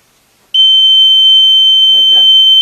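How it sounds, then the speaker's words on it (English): An ice fishing auto jigger's bite alarm switches on abruptly and holds one loud, continuous high-pitched electronic tone, with a brief faint voice murmuring underneath near the end. "when the fish bites and it tips the rod down, the motor will stop and an alarm comes on"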